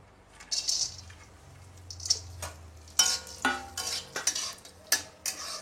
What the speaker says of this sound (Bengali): এই যে ভাজা কাজু বাদাম কটা একটু ঘির ভিতর দিয়ে নেড়ে চেড়ে